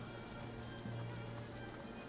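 Steady rain in the video game Divinity: Original Sin, a soft continuous patter with a low ambient hum underneath, moderately quiet and unbroken, with no voices.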